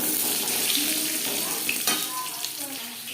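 Tap water runs steadily into a kitchen sink while peeled, lengthwise-cut potatoes are washed, a close, continuous splashing stream with small clinks and knocks over it.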